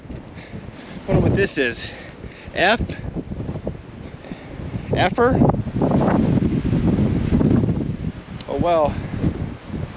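Wind gusts across the open desert near Picture Canyon. Rough, blustery buffeting and rumbling rise and fall throughout, and someone talks over it between the gusts.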